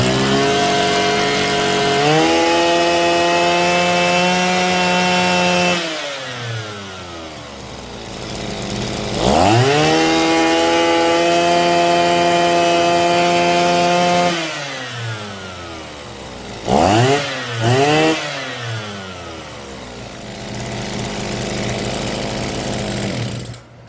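A two-stroke Kyeyang brush cutter, just fitted with a new piston, roars close and loud. It settles into idle between several rising revs as the throttle is opened and released, with no voices.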